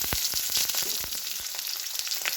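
Sliced onions frying in hot oil, a steady close sizzle with crackling pops scattered throughout.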